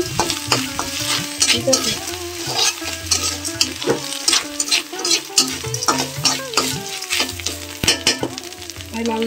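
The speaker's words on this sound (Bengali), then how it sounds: "দিয়ে অনেকটাকে ভালো করে আবার লাড়াছাড়া দিই, একটু লাল লাল করে ভাজি লমু।" Food being stirred and fried in a pan until browned, a home chicken dish: a loud, steady sizzle with frequent scraping stirs and clinks of a utensil, a brief voice at the start.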